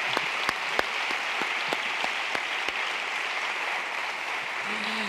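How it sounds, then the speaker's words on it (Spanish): Conference audience applauding to welcome speakers at a library and reading congress, a steady dense round of clapping with a few sharp louder claps standing out, and a brief voice near the end. "vamos a recibirles con un aplauso"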